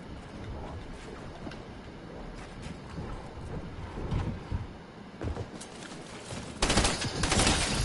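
Gunfire in the video game Fortnite, rapid clustered shots and bursts over busy game noise, getting louder and denser toward the end.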